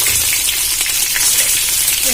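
Pomfret fish sizzle in hot oil with a continuous bright crackle and spatter, close and steady, and a faint voice briefly sounds underneath.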